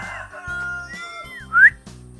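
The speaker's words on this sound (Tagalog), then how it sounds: "Sige, sisipol ako." A short whistle by a person at a duck farm, a few sustained tones followed by a brief rising chirp, close and fairly loud, with low background rumble.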